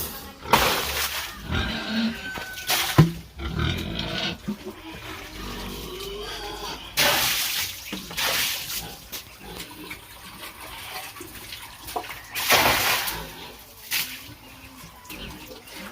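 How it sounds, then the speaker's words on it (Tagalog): Hungry pigs on a rural provincial farm grunt and squeal in bursts, with loud splashing and clattering sounds mixed in, close by and uneven in rhythm. "Gutom na rin si mga baboy."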